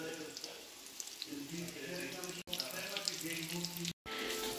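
A kitchen tap runs steadily as hands are washed under it during Christmas Eve cooking, with soft splashing and a constant watery hiss from close by, briefly cut twice.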